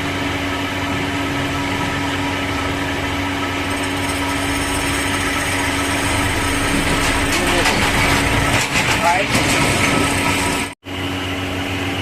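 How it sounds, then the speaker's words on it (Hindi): A bench grinder runs steadily with a constant motor hum and whine while a long dresser is worked against its stone wheel, loud and close, with rougher scraping texture near the end before a brief dropout. "मैंने चला दिया है ग्राइंडर"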